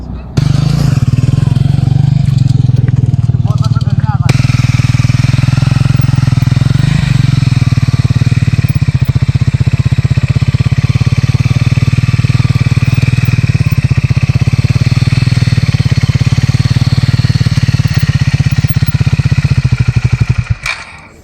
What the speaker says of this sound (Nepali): सो पहिला थोरै बाइक चलाउँ है त